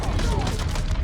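Dense rapid gunfire rattles in Mafia 3, a close burst of overlapping shots with faint voices mixed in underneath.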